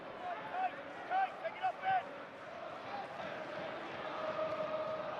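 West Brom football crowd at a match against Sunderland, a distant murmuring stadium hum with restless swells underneath, while commentators talk over it.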